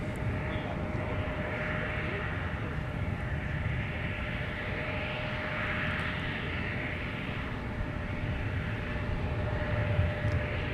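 An Eastern Air Express airplane at Minneapolis–Saint Paul airport makes a continuous, fairly loud engine roar with a faint steady whine, holding even throughout, with no talking.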